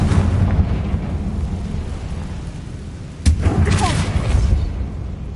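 An explosion from the Confringo fire spell in Hogwarts Legacy: a sharp crack followed by a rumbling blast with crackling debris, heard over a steady ambient background.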